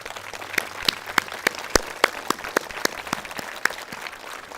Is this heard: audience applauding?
yes